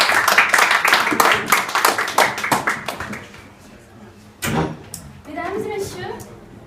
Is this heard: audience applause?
yes